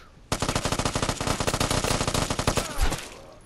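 Rapid automatic gunfire in the video game Vigor rattles off in a dense, loud burst lasting about three seconds, followed by a brief trailing thud.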